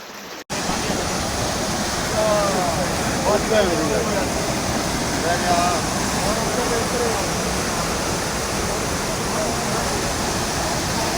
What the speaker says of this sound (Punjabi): ਪਾਣੀ ਵੱਧ ਰਿਹਾ ਹੈ ਆ ਦੇਖ ਲਓ ਭਰਾਵੋ ਆ ਦੇਖ ਲਓ ਪਿੰਡ 'ਚ ਨੂੰ ਪਾਣੀ ਵੜ ਗਿਆ